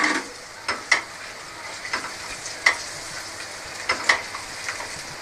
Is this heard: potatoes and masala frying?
yes